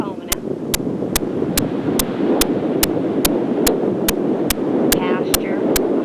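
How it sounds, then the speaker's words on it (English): Strong wind buffets the microphone outdoors near Nocona, Texas, a constant loud rumbling roar, while sharp regular ticking clicks repeat about every half second. "This wind's going to blow us away."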